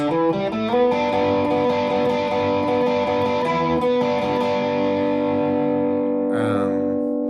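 A distorted electric guitar plays a sustained solo phrase with ringing, overdriven notes and some echo, ending in a quick sliding squeal.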